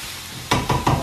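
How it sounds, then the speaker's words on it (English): Beef and finely chopped red onion fry in a pan for sweet potato nachos, a soft steady sizzle broken by three quick stirring scrapes close by, no voices. "So once the red onions have fried for a couple of minutes"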